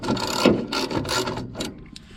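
A ratchet wrench with a 9/16 socket clicks in short bursts while loosening a bolt on an M105A2 military trailer, close and moderately loud with brief pauses between strokes.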